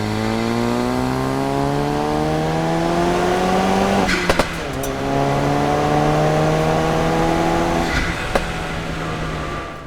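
A Ford Focus RS engine revs on a local back road, its rising tone climbing steadily through two long pulls with brief breaks between shifts, loud and close.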